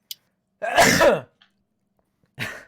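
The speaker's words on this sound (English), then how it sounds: "I'm gonna sneeze." One sharp sneeze, close and loud, starting with a quick breath, then a short throat noise and a faint sound after it, with quiet gaps between.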